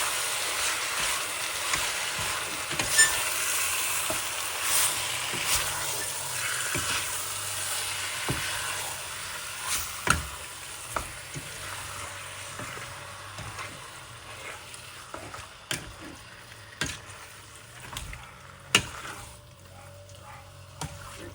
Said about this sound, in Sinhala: දැන් හොඳට තෙල් එකත් එක්ක මේ මස් එක හොඳට කලවම් කරගන්න.